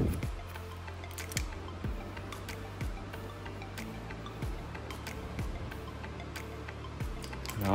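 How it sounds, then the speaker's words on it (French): Hairdressing scissors cutting a strand of long hair during a woman's layered cut, a few quiet, crisp snips spaced apart over a soft background with faint handling noises. "Et on vient couper."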